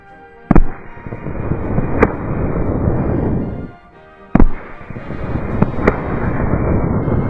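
Shots from a P58 Enfield naval rifle at an outdoor shooting match ring out as several sharp, loud cracks at irregular intervals, with a dense crowd-like background noise filling the space between them.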